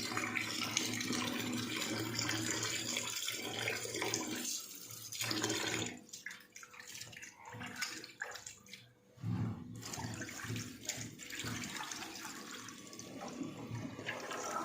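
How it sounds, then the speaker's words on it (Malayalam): Water is poured over raw fish to wash it, a loud rushing, splashing flow that thins out midway, dips briefly, then surges back strongly. "നമ്മൾ വെള്ളം ഒഴിച്ചൊന്ന് കഴുകിയിട്ടുണ്ട്"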